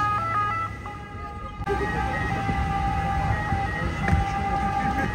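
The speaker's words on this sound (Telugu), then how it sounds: "అంబులెన్స్" An ambulance siren wails in Venice with steady tonal sweeps, loud and close, over a busy outdoor background.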